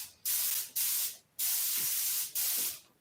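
Harbor Freight air spray gun shooting thinned paint, four loud bursts of broad hiss separated by short silences, close up.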